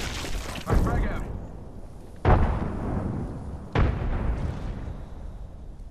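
Frag grenade blasts in the Apex Legends video game: three separate loud booms spaced about a second and a half apart, each decaying into a rumbling tail, with faint background game noise between them.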